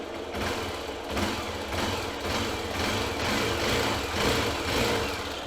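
A Hero Xpulse 200 motorcycle engine runs at a steady idle with a persistent rhythmic ticking. The ticking repeats several times a second over the engine's hum.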